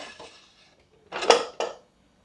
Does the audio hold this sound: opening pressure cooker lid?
yes